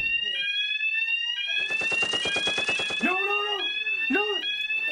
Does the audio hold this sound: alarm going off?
yes